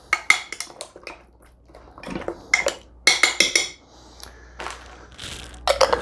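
Meatballs being stirred into grape jelly for a game-day dish, with repeated clinking and scraping of a utensil against a pot or slow cooker in uneven bursts, close and fairly loud, no talking.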